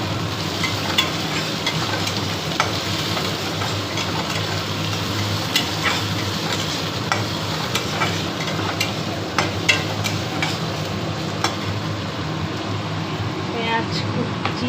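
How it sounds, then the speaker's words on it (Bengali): Chopped onion frying in a pan gives a steady, even sizzle that holds for the whole stretch, with a low hum beneath and small crackles here and there. "এখন এটা পেঁয়াজটাকে ভাজবো।"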